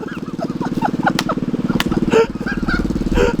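The buzzing, pulsing engine of a mini bike set up for wheelies, with a worn-out drive belt, revs hard close by as it is ridden, with short shouts and voices over the engine noise.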